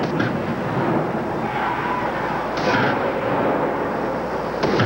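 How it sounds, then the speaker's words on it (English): A jet bike with its afterburner lit roars at a 1987 USHRA monster truck show in Minneapolis, a loud, sustained broadband blast with brief sharper surges near the start, middle and end. "Turns the afterburner on."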